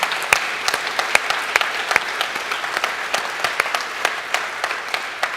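An audience in a conversation event applauds together, dense and sustained clapping from a large crowd, fairly loud and steady throughout with no talk over it.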